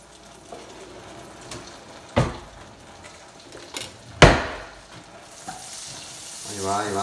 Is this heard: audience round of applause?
no